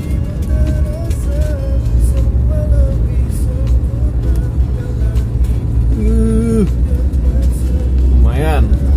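A boxy Suzuki Karimun strains uphill in second gear on a highland road, its engine a steady, loud low drone throughout, with people talking over it inside the car.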